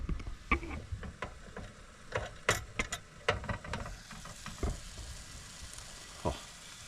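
Food sizzles in a pan at a campsite, a soft frying hiss broken by scattered sharp pops and crackles at irregular intervals, fairly close and with no talking.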